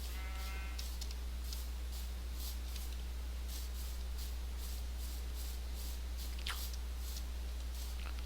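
Faint blocky Minecraft sheep bleats in the FTB Infinity modpack, a brief call near the start and another later, with quiet rhythmic ticking under a steady low hum.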